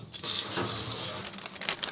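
Tap water gushing into a kitchen sink as it is rinsed out: a loud, steady rushing stream for about a second, then cut off, leaving a few splashes and knocks.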